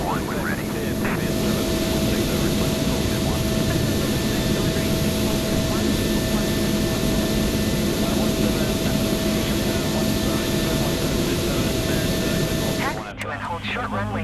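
A Boeing 777-300ER takes off from Philadelphia International Airport with a loud, sustained jet engine roar and a high whine. Faint radio-like voices sit under the noise, which cuts off abruptly near the end.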